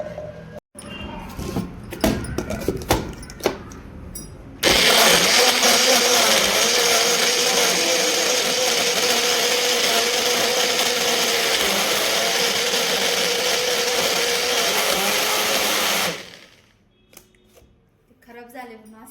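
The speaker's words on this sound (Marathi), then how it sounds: "आता ना मी याला बारीक करूनच तुम्हाला दाखवते" A kitchen mixer grinder grinds failed homemade candy, a loud, steady high-pitched whirring roar running for about eleven seconds before cutting off, with clatter and handling noises before it starts.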